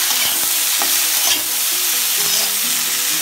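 Potatoes with turmeric and salt are stirred in a hot pan, giving continuous sizzling frying and scraping stirring sounds, close and steady, with no talking.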